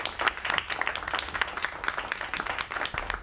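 A live audience claps and applauds to welcome a comedian onto the stage, a dense, steady patter of many hands that lasts the whole brief moment, with no talking.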